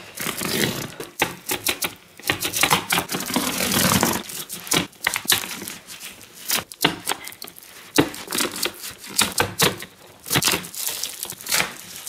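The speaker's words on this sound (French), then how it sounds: "je vais ouvrir le carton" Crinkling, tearing and scraping as a taped cardboard box is worked open, irregular bursts of crackly noise with brief pauses.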